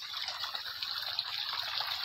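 Borewell irrigation water gushing steadily into a sugarcane field, a continuous bright rushing flow, loud and close with no pauses, alone without voices.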